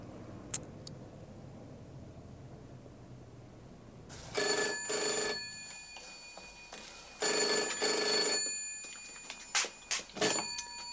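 An old-fashioned telephone bell rings indoors in bursts: two long double rings, then a few shorter broken rings, loud and metallic against a quiet room with no talking.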